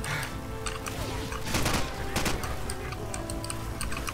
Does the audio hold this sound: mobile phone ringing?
no